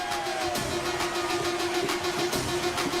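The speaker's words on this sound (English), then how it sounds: "Supersport trucks powering towards where we are" Supersport trucks at a European tractor pulling event powering down the track: a continuous, loud engine roar with a steady pitched drone and repeated rhythmic pulses, heard from a distance without talk.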